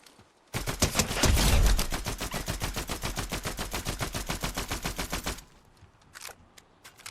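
Rapid automatic gunfire from a weapon in Fortnite rattles out in one long sustained burst of evenly spaced shots, loud and close, followed by a few scattered fainter shots.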